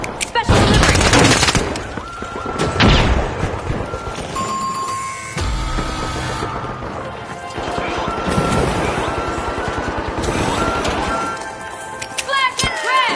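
A frag grenade explosion and heavy gunfire in a shooter video game: loud bursts and rapid volleys of shots with crashes throughout, over ongoing battle noise and a voice.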